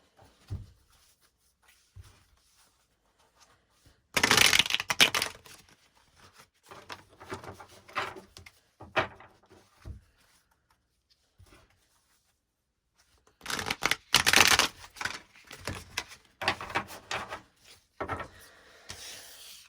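Tarot cards are shuffled up close in two main rustling, riffling bursts separated by quieter shuffles, light handling and silent gaps, with no voices.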